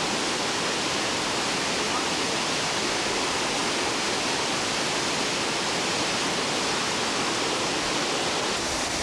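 Clear mountain stream in Glacier National Park rushes steadily, a dense, loud, unbroken wash of flowing water close by with no voices.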